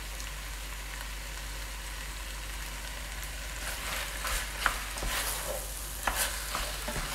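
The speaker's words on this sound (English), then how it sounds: "the chopped up bell pepper, and we're frying that all together now" Steady sizzling of chicken and chopped bell pepper frying in a pan for chicken tikka masala, with occasional clinks and scrapes of stirring growing busier toward the end; no voices.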